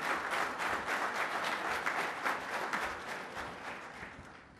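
Conference audience at a keynote of the PMI India National Conference gives loud, dense applause, many hands clapping together in a sustained roar that tapers slightly near the end, with no speech.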